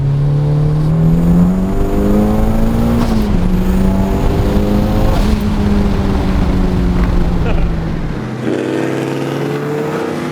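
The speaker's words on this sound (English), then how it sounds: "the rev matching, the shifting, it's just so good" A loud Mazda engine revs and climbs through several manual gear shifts with rev matching, pitch dropping at each change, then settles to a lower drone near the end.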